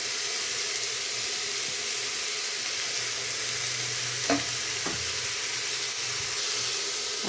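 Ginger garlic paste fries in hot oil for palak paneer, a steady hissing sizzle with a couple of brief spatula scrapes partway through.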